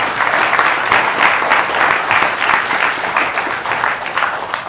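Steady, dense applause from an audience cheering contest winners at a live show fills the whole stretch, loud and continuous with no talking.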